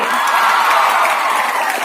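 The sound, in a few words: applause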